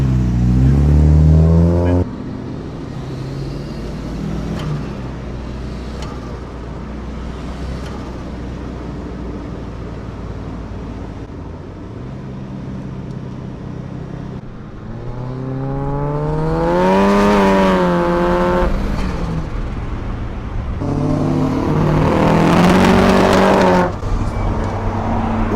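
A car fitted with an FJ20ET engine revs and accelerates around Sydney Motorsport Park, its engine note climbing through loud rising sweeps, dropping back between gears, then surging again near the end.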